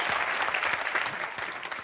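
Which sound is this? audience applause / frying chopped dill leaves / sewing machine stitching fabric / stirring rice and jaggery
audience applause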